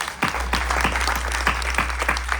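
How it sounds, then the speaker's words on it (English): Audience clapping fills the room at a Ganesh Chaturthi Utsav gathering, dense and steady with a few sharper individual claps standing out, over a low constant hum. "Clap again for him."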